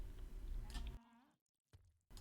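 Sheep bleating in the Age of Empires III strategy game: a single short in-game bleat early on, followed by a near-silent gap and a few brief game clicks.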